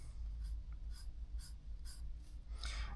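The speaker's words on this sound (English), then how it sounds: "I'm using a marker because it's easier" A marker drawn across leather while laying out a knife sheath, giving soft, fairly quiet rhythmic strokes in short bursts, with a longer scratchy pass near the end.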